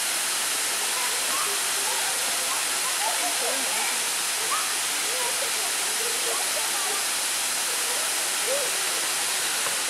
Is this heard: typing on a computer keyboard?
no